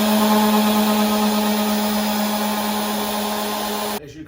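Ryobi power sander running on a wooden board, a loud, steady electric whine with a strong constant hum, close by, that cuts off abruptly near the end.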